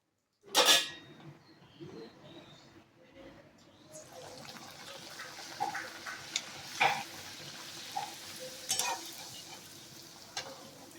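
Luchi frying in hot oil in a wok: a sharp splash as the dough goes in, then a steady crackling sizzle with occasional stirring clinks, close and moderately loud.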